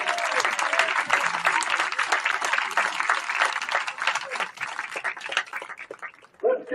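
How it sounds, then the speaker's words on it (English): An audience claps and cheers for a football team at a dedication ceremony, a dense, steady wash of applause from a large crowd that fades slightly near the end as a voice breaks in. "Let's give that team a big round of applause, ladies and gentlemen."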